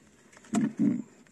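Pigeons cooing close by: two short, low, throaty coos in quick succession, each lasting about a quarter second.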